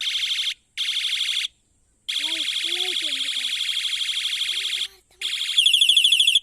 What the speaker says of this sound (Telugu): ఇదైతే హారన్ ఫ్రెండ్స్.